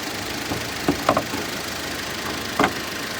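A Volkswagen Golf Plus 1.4 MPI engine idling steadily under the hood with a low, continuous hum, broken by a few faint clicks and knocks.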